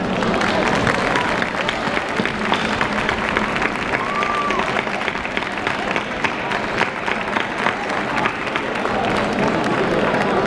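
A crowd applauds steadily for a folk dance group's 25th anniversary at a dance festival in a town square, a dense, continuous clapping that lasts the whole stretch with a faint murmur underneath.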